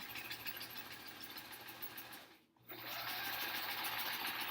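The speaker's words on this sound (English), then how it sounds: "All we're doing is trying to sew things together until they are similar sizes." Sewing machine stitching quilt pieces together: a close, steady mechanical whir with a brief pause midway before the stitching resumes and runs on.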